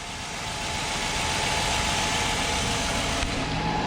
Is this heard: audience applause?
no